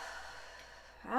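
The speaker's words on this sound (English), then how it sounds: "take a deep breath in" A slow, deep breath drawn in, a soft airy hiss held steady for about a second before a voice starts at the very end.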